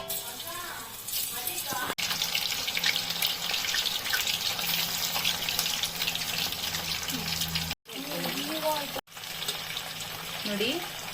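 Mushroom manchurian batter fried in oil over a medium gas flame gives a steady, dense hiss, with a voice talking over it and two brief drops to silence near the end.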